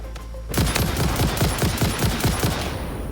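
Rapid rifle fire in a video game rings out as a loud, sustained burst of closely spaced shots, starting abruptly after a brief quiet moment and rattling on for a few seconds with no talk.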